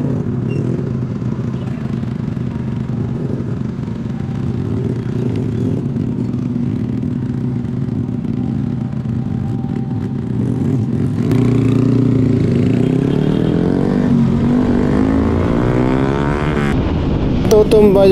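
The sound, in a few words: motorcycle engine while riding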